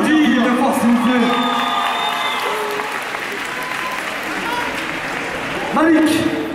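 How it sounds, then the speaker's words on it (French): A crowd at a breakdance battle event claps and cheers steadily, with an announcer's voice calling out over the applause at the start and again near the end. "faites du bruit pour eux, on peut les applaudir."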